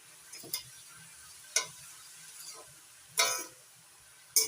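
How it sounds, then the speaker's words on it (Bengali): A spatula scrapes and stirs spinach with turmeric powder in a pan, four or five distinct short strokes spaced about a second apart over a faint background. "এবার নাড়াচাড়া করে মিশিয়ে নিচ্ছি"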